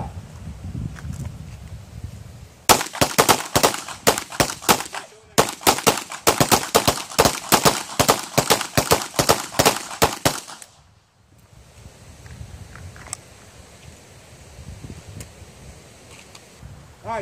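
Pistol shots at an outdoor training range crack out in rapid, dense volleys from several shooters over about eight seconds, briefly pausing once, loud and sharp, then fading to quiet ambient noise.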